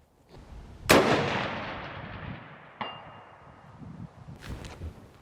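A rifle fires at a 500-yard target: one sharp, loud crack with a long decaying echo, then a faint distant metallic ping as the steel target is hit, followed by quieter handling noises.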